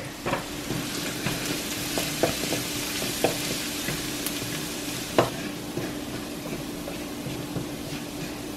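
Crushed garlic sizzles steadily in a hot pan with a continuous frying hiss, punctuated by occasional clinks and scrapes of stirring, close and without talk.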